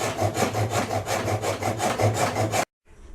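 A hand saw cuts through the bulky end of a wooden axe handle in quick, even back-and-forth strokes, close and loud, stopping abruptly near the end.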